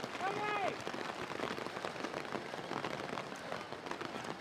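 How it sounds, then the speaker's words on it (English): Heavy rain at an outdoor American football match between Hereford Stampede and Berkshire Renegades, a steady broadband hiss of rainfall with a voice speaking briefly at the start. "the rain is much, much worse than before"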